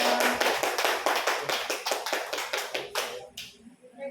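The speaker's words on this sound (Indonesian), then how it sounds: "Oke, boleh tepuk tangannya." Classroom-style group clapping during a school dissemination session: a burst of fairly quick, distinct hand claps from a small group, near and crisp, tapering off with a few scattered last claps.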